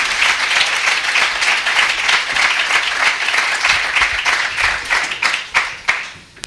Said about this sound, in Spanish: Fuerte aplauso para Jaime.